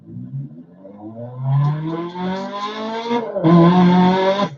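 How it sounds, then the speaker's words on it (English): A rally car engine in Dirt Rally 2.0 fires up and revs, its pitch climbing steadily over a few seconds, then jumping sharply to a loud, sustained higher whine near the end, with no talking. "Listen to this when it starts up."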